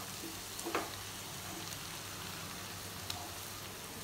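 Moringa drumsticks fry quietly in a pan with a soft, steady sizzle and a couple of faint stirring clicks.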